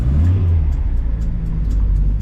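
A 1971 Datsun 510 barn-find car drives along, its engine giving a loud, steady low rumble and road drone close to the microphone, with faint ticks and rattles on top.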